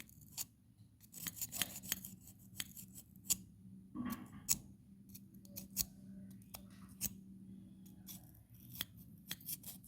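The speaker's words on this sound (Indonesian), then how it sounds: "Kerak-kerak yang kotor, kita bersihkan dengan gunting ya guys." Scissors scraping dirty crust off a gas stove burner: a quick series of close, crisp metallic scratches and clicks in an irregular rhythm, one brief rougher scrape midway, over a low steady hum with no talking.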